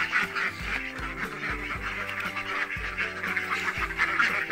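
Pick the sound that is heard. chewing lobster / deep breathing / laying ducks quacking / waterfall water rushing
laying ducks quacking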